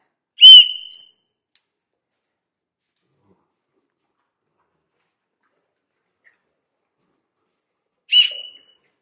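Two sharp, high whistle blasts separated by a long silence, each brief and piercing, close by.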